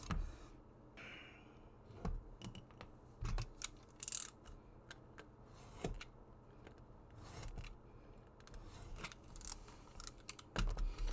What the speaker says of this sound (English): I'm just going to trim the height a little bit.